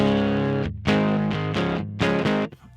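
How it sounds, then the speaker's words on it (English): A guitar synth runs through a gritty distortion that resembles tape saturation, playing loud sustained chords in a few separate bursts with short gaps between them. "It almost sounds like tape saturation to me."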